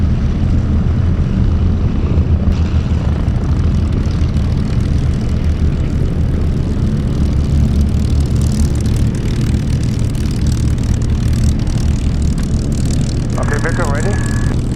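A loud propeller aircraft engine drones steadily nearby during an air display featuring a P-51 Mustang, its continuous low roar filling the scene with a brief higher whine near the end.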